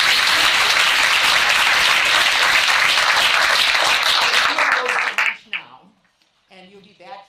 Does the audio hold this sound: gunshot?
no